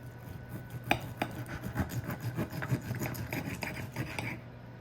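A knife saws repeatedly through a cast-iron-cooked rib eye steak, giving close, steady rasping strokes with small scraping clicks and no talk.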